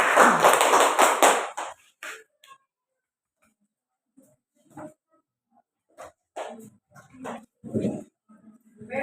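Students in a classroom clap for a presenting group, a loud burst of applause in the opening two seconds that fades out, followed by scattered taps and a few voices talking.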